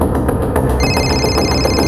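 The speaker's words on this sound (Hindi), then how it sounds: "सर, नेहा का फोन।" A phone rings loud and close, a steady electronic trill pulsing in a quick repeated rhythm in an indoor setting.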